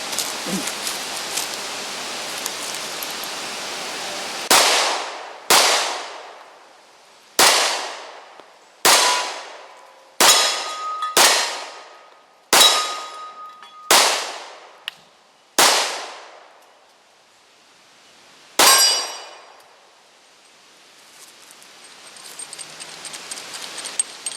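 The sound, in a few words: Glock 29 10mm pistol shots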